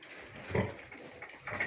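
Sows with their piglets on a farm give a couple of short, fairly close grunts over a quiet barn background.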